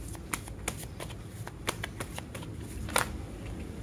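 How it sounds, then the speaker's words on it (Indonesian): Tarot cards are shuffled close by with a series of crisp, irregular flicks and riffles, sharp papery snaps scattered across a few seconds, no voices. "Tapi ini bunyinya kartu."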